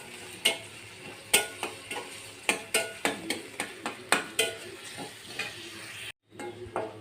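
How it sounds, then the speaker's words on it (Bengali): Chopped onion and garlic frying in a pan for dal tempering, with a steady sizzle broken by a dozen sharp clacks of a spoon stirring against the pan, close and alone. "এটাকে আমি এখন ভেজে নিব, নেড়ে চেড়ে ভেজে নিয়ে তারপর ডালের মধ্যে দিয়ে দিব।"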